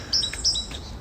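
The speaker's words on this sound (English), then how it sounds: "Ah, the bird song, beautiful." Birdsong outdoors in the rain during a photowalk, a few bright, clear chirps in two quick pairs close by, standing out over a soft background hiss.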